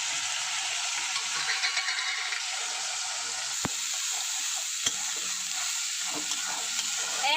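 Onion, ginger, garlic and tomato paste fry in hot oil with a steady, dense sizzle, stirred now and then with occasional sharper scraping clicks, close and continuous with no voices.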